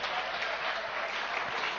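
Church congregation clapping during a lively covenant night service, a dense, steady wash of applause that stays even and loud without a break.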